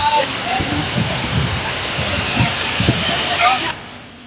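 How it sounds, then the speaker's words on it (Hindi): Heavy monsoon rain pours near Agastyamuni in Rudraprayag, a steady dense hiss of falling water that holds loud and constant before cutting off abruptly near the end. "रुद्रप्रयाग में अगस्त मुनि के पास भारी बारिश ने कहर बरपाया।"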